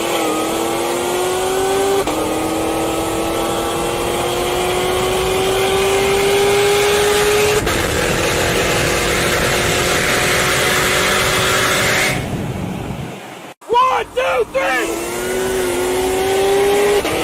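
An Audi RS3 and another car drag race, with loud engines revving and pulling hard through rising gear tones, a brief drop to near silence, then a renewed high-revving surge, with no talk over them.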